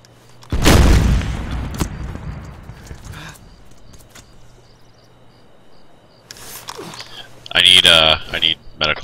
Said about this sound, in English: I might have gotten him with that frag I just threw